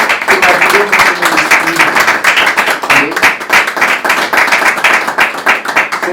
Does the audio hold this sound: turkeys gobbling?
no